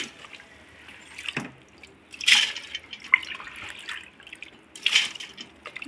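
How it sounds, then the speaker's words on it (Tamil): Water splashes and trickles in short bursts into a wet grinder, with drips and a couple of louder pours close by. "கிரைண்டரில் கொஞ்சம் தண்ணி ஊற்றி"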